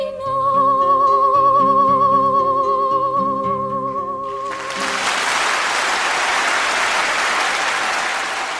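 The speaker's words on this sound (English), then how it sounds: "And then there was such applause." Sustained orchestral music fades, then a large audience breaks into loud, continuous applause that fills the rest of the clip.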